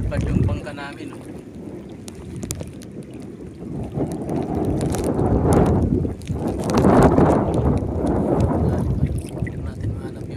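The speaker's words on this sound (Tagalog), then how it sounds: "Lakas ang hangin, no?" Strong wind roars across open sea around a small wooden boat, gusting and buffeting the microphone in loud, uneven surges, with water sloshing and a voice talking underneath.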